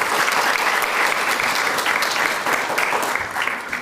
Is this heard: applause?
yes